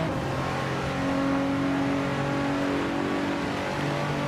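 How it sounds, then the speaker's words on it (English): A 2013 Audi RS4 Avant Quattro in a racing video game, its engine droning steadily with sustained revs that swell slightly midway, heard alone. "Betsmar is leading in a 2013 Audi RS4 Avant Quattro, known for its practicality and power."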